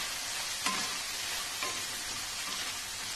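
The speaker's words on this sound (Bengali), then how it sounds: "আলুগুলোর সাথে কড়াইশুঁটি দিয়ে দিলাম, আমি অল্প নুন দিয়ে দিচ্ছি, দিয়ে তারপর এগুলোকে একটু ভালো করে ভেজে নেব" Potatoes and peas frying in oil in a wok, a steady hissing sizzle filling the whole clip with a couple of brief stirring clatters, moderately loud and close, with no talk.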